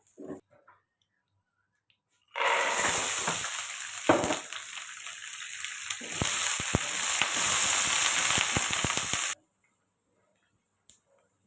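Mustard seeds and other ingredients for gongura chutney fry in hot oil, a loud, steady sizzle with crackling pops that starts abruptly, runs for about seven seconds alone, then cuts off into quiet.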